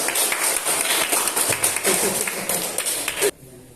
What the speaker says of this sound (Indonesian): Silakan beri tepuk tangan dulu